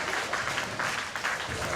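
A crowd at a tenpin bowling event applauding a strike, steady clapping at moderate distance with a commentator talking over it.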